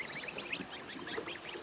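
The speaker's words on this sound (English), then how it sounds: "They're not baby swans, these are baby geese. They're goslings." Soft, high-pitched peeping and chirping from goslings by the River Thames, many overlapping calls in a steady chatter close by.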